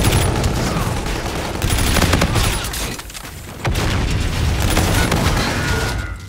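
Sustained bursts of video game gunfire, dense rapid shots with booming impacts, loud and close, pausing briefly midway before the firing resumes.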